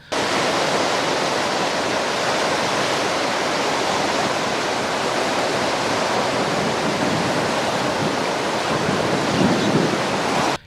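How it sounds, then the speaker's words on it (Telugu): Floodwater released through seventeen lifted crest gates of a dam pours out in a loud, steady, unbroken roar during heavy monsoon rains, with no pause for the whole stretch. "పదిహేడు క్రస్ట్ గేట్లు ఎత్తి లక్ష క్యూసెక్ల నీటిని దిగువకు వదులుతున్నారు"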